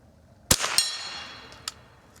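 A Marlin Model 99 rifle fires at a target: one sharp, loud report followed by a second quicker crack a moment later and a fainter distant ring or impact afterward.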